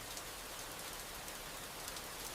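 Steady rain sound effect in an audio drama: an even, dense hiss of falling rain that is fairly soft and continuous, with no voices.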